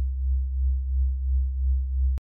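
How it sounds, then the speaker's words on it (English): A clean sine wave bass patch from the Serum synthesizer holds one steady low tone with a gentle pulsing swell in level, then cuts off sharply at the end. "we're going to use a sine wave"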